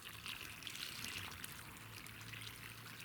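Water solution poured from a 1.5-litre bottle into planting holes in damp soil, a faint steady trickle and splash running throughout under a hissy background.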